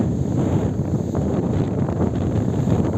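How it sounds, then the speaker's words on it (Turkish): Strong, very cold wind at Kartepe Suadiye nature park near Sapanca Lake buffets the microphone in a continuous, heavy roar with gusty fluctuations, loud and close throughout. "Şu rüzgara bakın."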